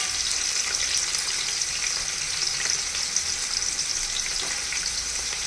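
Onions and green chillies fry in a pan with a steady, close sizzle and occasional stirring scrapes, continuing without pause and with no one talking.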